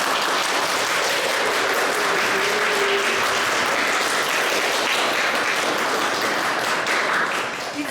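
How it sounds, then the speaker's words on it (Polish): Warm, dense applause from a school assembly celebrating first-grade pupils after their oath at a primary school in Warsaw, a steady crowd clapping at full level throughout, fading slightly at the end. "Dziękuję Wam bardzo, brawo dla nich!"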